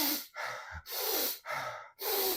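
Close, steady breathing with four or five audible in-and-out breaths in quick succession, moderately loud and airy, with no talking.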